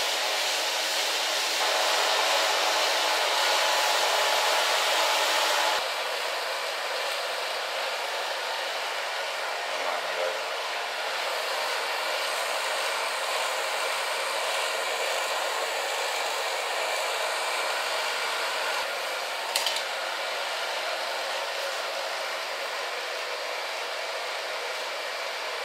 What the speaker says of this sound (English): I'm going to dry it with a medium brush